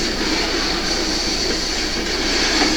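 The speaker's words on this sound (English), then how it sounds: "I use a few locomotives to work the yard, including this SW9 New York Central unit" A model SW9 New York Central switcher locomotive works a model railroad yard with a steady, even mechanical hum and rumble that continues unbroken throughout, with no voices.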